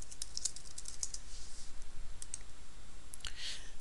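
Close typing on a computer keyboard, a quick run of light clicking keystrokes with short pauses between bursts.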